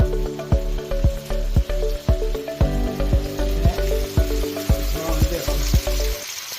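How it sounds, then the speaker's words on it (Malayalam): Chicken pieces dropped into hot oil for Indo-Chinese chilli chicken crackle in a steady close sizzle, broken by regular sharp pops and spits over a medium flame. "ഇനിയും ചൂടായ എണ്ണയിലേക്ക് ചിക്കൻ കഷ്ണങ്ങളിട്ട് വറുത്തെടുക്കട്ടെ"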